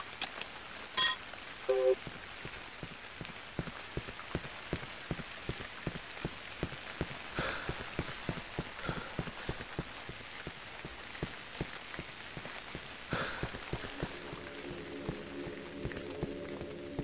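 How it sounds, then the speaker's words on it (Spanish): Steady rain from the Cry of Fear video game patters continuously for many seconds, with many close, individual drop taps on surfaces, a few brief electronic beeping tones cutting in, and a low hum toward the end. "Ya llueve."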